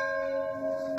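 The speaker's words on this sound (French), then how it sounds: "la cloche de l'église de La Capelle" A church bell at the church of La Capelle rings a sustained, resonant tone with strong humming overtones, steady and fairly loud, with a brighter struck accent right at the end.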